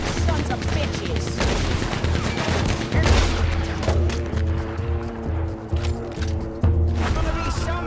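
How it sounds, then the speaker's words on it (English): A Gatling gun fires in rapid bursts during a gunfight in Red Dead Redemption 2, its rattling shots crackling under shouted voices and hoofbeats, loud and close throughout. "They brought a Gatling gun. They keep firing like that."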